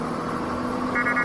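In the Euro Truck Simulator 2 truck game, a short electronic beep sounds three times in quick succession near the end of the moment, over a steady engine hum.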